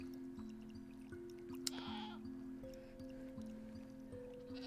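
Goats on a goat farm in Minecraft bleat faintly over steady droning game tones, with one brief brighter burst partway through.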